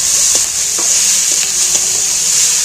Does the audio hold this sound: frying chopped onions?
yes